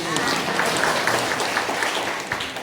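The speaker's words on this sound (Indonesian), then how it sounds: "Tepuk tangan untuk Muhammadiyah." Steady applause from an audience at an Islamic religious lecture fills the whole moment, a continuous wash of clapping with no pauses.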